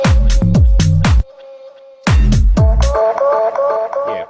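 Chopped vocal samples of the Squid Game red light green light song in a remix intro: rapid stuttering cut-up fragments, a sustained tone with a gap, then more choppy hits giving way to a melodic synth line.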